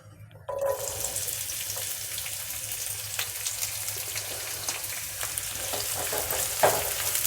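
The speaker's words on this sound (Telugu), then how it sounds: "సరే కలుపుకున్నాము ఉల్లిపాయలు ఫ్రై అయ్యేదాకా" Chopped onions and green chillies frying in oil for chicken momos, a soft sizzle that starts abruptly and continues steadily, with occasional stirring scrapes and a clink near the end, close and without talk.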